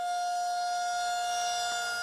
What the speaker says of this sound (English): When you are outside, the first alert you will receive is likely from a tornado siren